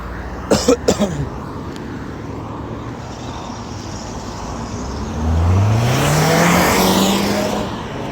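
Traffic on a street heard while walking alongside it: a steady rumble of passing cars, with a louder vehicle swelling and rising in pitch as it passes near the end. A few sharp cough-like bursts come early, and no one speaks.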